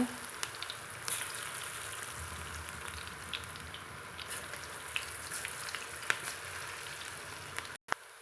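Pinched lumps of masoor dal, small onion and drumstick leaf pakoda batter fry in hot oil, a steady crackling sizzle with scattered pops and brief clicks, no talking.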